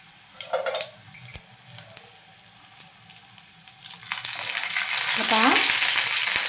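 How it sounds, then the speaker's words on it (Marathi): Stuffed green chillies, Malvani style, frying in a pan and being turned over, giving a steady sizzle that swells louder toward the end, with scraping stir sounds and a few light metallic clinks. "आता आपण मिरची फिरवून घेऊया।"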